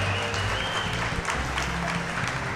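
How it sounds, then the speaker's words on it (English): At a live clubhouse show with Green Bay Packers players, the audience applauds the game contestants, producing a soft, continuous wash of clapping in a room that sounds somewhat distant, over a low background rumble. "How about a round of applause for the guys tonight?"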